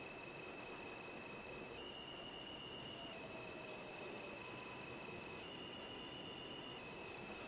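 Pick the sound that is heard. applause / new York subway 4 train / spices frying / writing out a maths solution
new York subway 4 train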